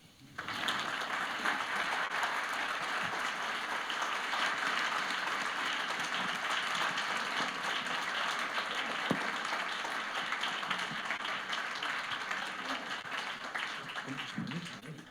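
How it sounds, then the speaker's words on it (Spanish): Sustained applause from a lecture audience, a dense steady roar of many hands clapping for about fifteen seconds, close and loud throughout. "Y ahora es cuando ustedes aplauden."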